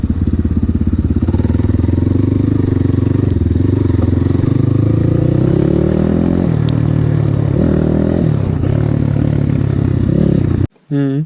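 A motorcycle engine drones loudly and close while riding off-road, its pitch rising and falling with throttle changes and some clatter, continuing nearly the whole time before cutting out briefly at the end.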